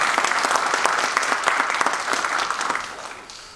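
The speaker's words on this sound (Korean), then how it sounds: "큰 박수 부탁드립니다." Lecture audience breaking into loud, dense applause, a steady wash of many clapping hands that holds strong before tapering off at the close.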